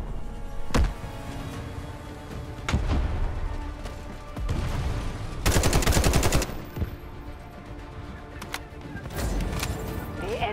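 Gunfire in the military shooter Delta Force Hawk Ops, with scattered sharp single shots and a dense burst of rapid automatic fire midway, mixed with booming impacts, some near and loud, others more distant.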